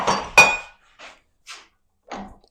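Steel wrenches clank and clink against a pump's threaded barrel connection as it is broken loose, two sharp metallic knocks followed by three fainter, separate taps with quiet gaps between.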